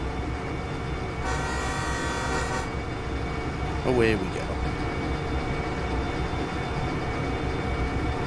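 A steady, low locomotive engine rumble in the train simulator game Derail Valley runs throughout, with a sustained horn blast early on and a brief spoken phrase partway through.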